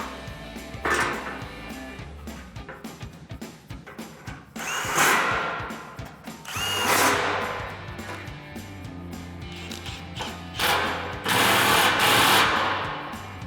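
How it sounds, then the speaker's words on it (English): Impact wrench with a 14mm socket tightening bolts on a Tacoma suspension lift, several loud whirring bursts with rattling hammering between quieter handling noises, close by. "Then we're gonna come back with a 14mm socket and an impact and tighten it down."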